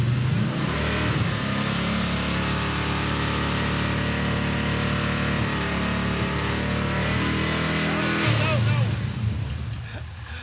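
A 440 V8 engine in a Dodge Dart with large exhaust leaks revs loudly and steadily at high RPM, holding the roar for several seconds before easing off, with voices faintly underneath.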